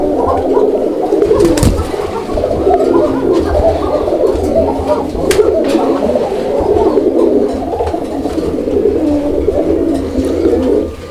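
Coffee-coloured Rajgolla domestic pigeons coo continuously and loudly up close, several birds overlapping in a steady murmuring drone with occasional wing flutters or knocks.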